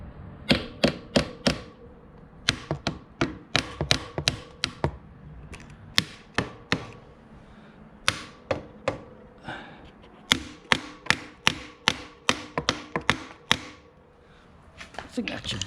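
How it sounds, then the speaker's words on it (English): Sharp metallic hammer taps drive a motorcycle fork brace into place on a DR650, coming in quick bursts of rapid blows separated by brief pauses, loud and close throughout. "tap it down with a hammer"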